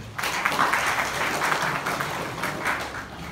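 Audience applause at an industry–academia conclave at Rajarambapu Institute of Technology in Islampur, a steady wash of many hands clapping through the whole stretch, fairly close and fading slightly toward the end.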